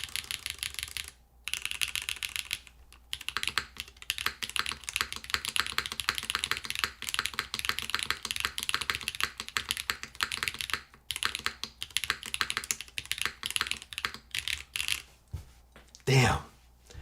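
Rapid clacky typing on a Keycult 2/65 mechanical keyboard with Holy Panda switches, continuous and close, with brief pauses and a louder thump near the end.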